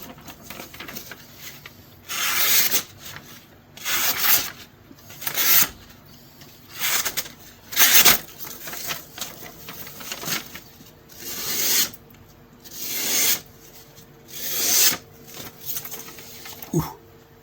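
Restored knives are sharpened with rhythmic rasping strokes, about a dozen evenly spaced scrapes close at hand, each a short gritty swish with brief pauses between.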